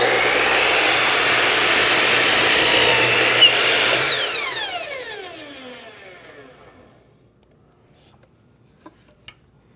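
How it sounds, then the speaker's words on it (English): A miter saw cuts a piece of crown molding trim in half with a loud, close whine. The motor then winds down over several seconds, and a couple of light knocks follow. "all I'm going to do now is cut this piece of trim in half."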